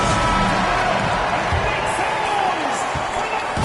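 A big arena crowd at a Kings basketball game claps and cheers in a loud, steady wash of noise during the fourth quarter, with an announcer speaking over it and the occasional thud of a bouncing ball.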